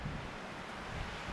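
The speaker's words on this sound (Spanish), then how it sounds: "ahí se oye el airecito todavía que está fregando" Steady broadband wind rushing outdoors on a hot day during a hunting trip in New Mexico, a continuous low roar buffeting the microphone with no pauses and no voices.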